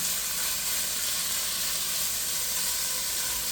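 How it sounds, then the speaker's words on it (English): Turkey bacon frying in hot oil over medium heat, a steady close-up sizzle and hiss that holds evenly throughout with no talking. "All right, the oil is heated up. I'm going to start now with the bacon."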